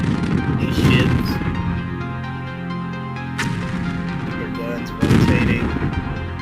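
Ships in a video game fire rapid bursts of gunfire: dense rattling volleys that come in clustered waves, loud and close, with a sharp blast near the middle and a heavy renewed barrage toward the end.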